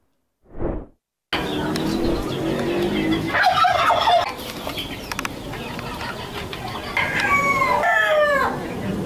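Ornamental chickens at a poultry farm in Tangerang cluck and crow, with a rooster's rising call near the end, over continuous farmyard noise and a brief opening blip.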